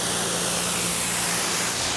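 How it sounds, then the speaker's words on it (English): Water spray rinses a Porsche GT3 RS during detailing, a continuous loud broadband hiss close by with no pauses. "Now I'm going to do a little bit more thorough rinse than I did before, just to make sure I get all this junk off"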